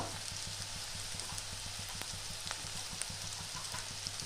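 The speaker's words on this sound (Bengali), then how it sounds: "এটা পেঁয়াজটা আমি দু থেকে তিন মিনিট একটু ভেজে নেব" Chopped onions fry in a pan for a chicken dish, giving a steady, even sizzle like light rain that runs throughout. Faint irregular ticks and pops sit over the hiss, and no one speaks.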